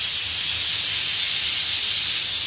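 A steady, loud hiss of vada batter frying in hot oil, a dense bright sizzle that holds without a break throughout, close by.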